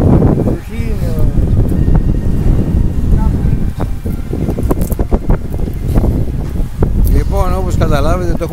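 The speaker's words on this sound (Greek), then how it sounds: "ο αέρας δεν σταματάει" Strong wind roars and buffets the microphone continuously, loud and close, while people talk in Greek over it during night fishing on the coast of Chalkidiki.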